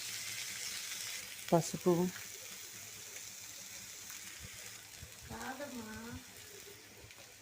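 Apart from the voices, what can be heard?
frying onion, green chilli and coriander in a pan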